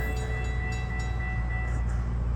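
FEC freight train passing at a rail meet near Bayard, a loud continuous rumble of wheels and cars with faint steady tonal ringing above it.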